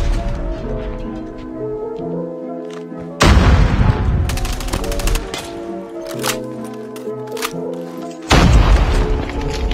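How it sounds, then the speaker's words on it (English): A grenade explosion in a video game, one of two loud booming blasts with a sharp crack and long rumble, set amid gunfire, background music and game effects, with no one talking. "Grenade out."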